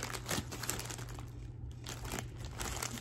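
A Temu haul package being opened, with plastic packaging crinkling and rustling up close in continuous bursts, no talking.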